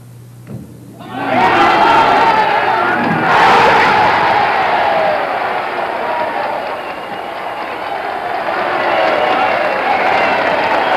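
A bowling crowd erupts in loud, sustained cheering and applause after the final strike of a perfect game. The roar swells suddenly and holds at full strength, without talk over it.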